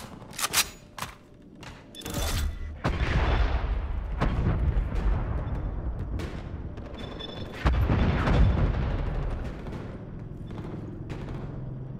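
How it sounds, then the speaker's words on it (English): Artillery fire in the video game Call of Duty Cold War: sharp cracks open, then heavy booms and rolling rumbles follow one after another, loud and spreading out, with a second big impact partway through. "Hostile artillery targeting active."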